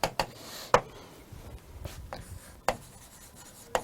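Eight targets written by hand on a board, with sharp taps as the marker meets the surface every second or so and soft scratching strokes in between, close and with no voices.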